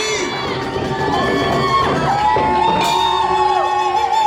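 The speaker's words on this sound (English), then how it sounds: "open up your lungs and scream as loud as you can" A large crowd at a Cambodian New Year celebration in Stockton screams and cheers loudly and continuously, with children's shrieks and whoops rising above the roar.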